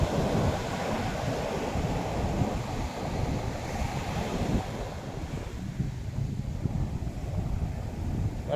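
Sea waves wash continuously onto a beach, a steady broadband surf roar with some wind noise across the microphone and no talk.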